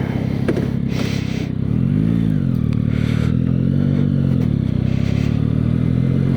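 A Kawasaki Ninja 500 motorcycle idling loud and close, then revving up and pulling away with rising and falling engine pitch as it rides off, no talking.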